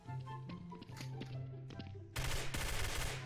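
Gunshots in Garry's Mod, scattered sharp cracks over a low hum that build into a louder, rapid burst of fire near the end, close and without talk.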